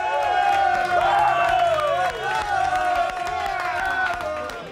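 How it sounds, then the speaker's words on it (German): Football fans in a New York bar erupt in loud, sustained cheering and shouting for a 1:0 goal, a dense crowd roar with whoops and voices that holds steady for several seconds. "Deshalb ist der Jubel beim 1:0 riesengroß."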